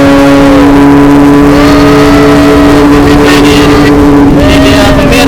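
Motorcycle engines rev loudly in street traffic, with a steady close drone and rising and falling throttle blips, and faint voices underneath.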